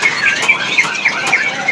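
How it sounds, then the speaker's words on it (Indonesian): Sisa hijau songbird calling at a bird market, a run of bright, high repeated chirps and trills sounding close and fairly loud against a murmur of market background, with no talk over it. "Wah, ini ada burung sisa hijau sebenarnya."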